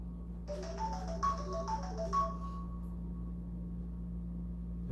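A telephone rings in a quiet room during a counseling lecture, a repeated electronic ringtone melody of several bursts over a steady low hum, then falling silent.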